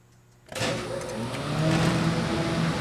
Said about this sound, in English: Now we can start the motor.